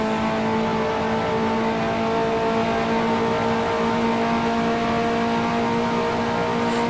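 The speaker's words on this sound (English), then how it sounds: "now up into fifth gear, just riding those top RPMs on the engine" A Ferrari race car engine holds high revs in fifth gear, a loud, steady, sustained whine with strong even harmonics that never lets up, close and alone with no talking.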